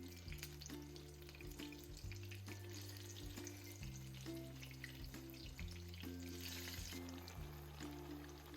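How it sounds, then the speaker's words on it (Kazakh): Egg-dipped eggplant slices frying in hot oil give a faint, steady sizzle and crackle under sustained tonal background sounds, with no voices. "Қызып тұрған майға баклажанымызды жұмыртқаға малып пісіреміз."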